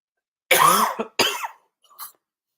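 Two harsh, close coughs in quick succession, followed by a softer throat-clearing hack, then silence.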